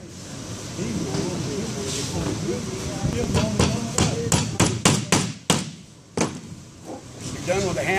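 Sharp hammer blows drive nails during wooden frame assembly, a rapid run of loud, close strikes following scattered earlier knocks, with people talking throughout.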